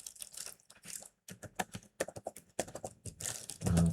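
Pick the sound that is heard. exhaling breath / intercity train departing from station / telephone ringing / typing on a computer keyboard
typing on a computer keyboard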